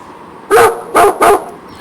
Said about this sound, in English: This animal is dog.